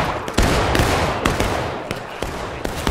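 Musket volleys from Civil War infantry lines in War of Rights, a ragged fusillade of overlapping shots cracking out at close and middle distance, several sharp bursts in quick succession over rolling battlefield noise.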